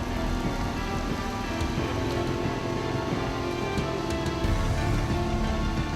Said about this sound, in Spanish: la noche nos trae el agua que refresca, limpia y se desliza por el empedrado